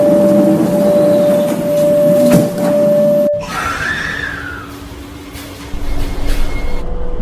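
A metro train at Riverside Station, a steady tone and rumble ending in a sharp door thud, then the train pulling away with a rising whine and a rolling rumble close by.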